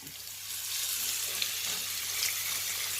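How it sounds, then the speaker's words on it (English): Beef burgers coated in barbecue rub sear in a frying pan, giving a steady, loud, close sizzle that holds evenly throughout with a few small pops and no talk. "you'll see this going in the frying pan right now"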